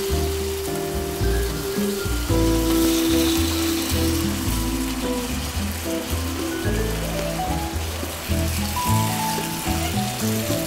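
Meat coated in a garlic, salt and seasoning mix fries in a pan with a steady sizzling hiss that runs the whole time, partly masked by loud background music.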